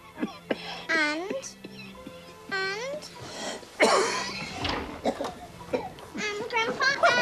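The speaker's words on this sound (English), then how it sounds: "Can't you see Grandpa is coughing?" An elderly grandfather in an old drama film coughs in a few harsh bursts amid a voice and other talking, the coughs loud and close in a quiet indoor room.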